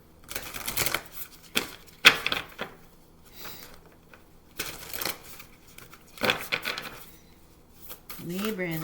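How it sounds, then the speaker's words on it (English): Tarot cards being shuffled by hand in several quick riffling bursts, with speech in between and a voice at the end. "I'm going to give it another shuffle."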